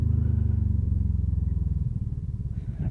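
A motorcycle engine labours up a steep 10% grade in Norway, a loud close throbbing thump that shifts rhythm as it drops into second gear, with no voices.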